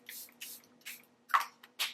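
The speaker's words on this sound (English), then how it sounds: "get some mattifying setting spray" Five short, quiet hissing bursts of a mattifying makeup setting spray bottle in quick succession, each a soft airy spritz separated by brief pauses.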